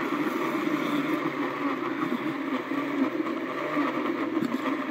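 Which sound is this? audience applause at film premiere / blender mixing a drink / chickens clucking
blender mixing a drink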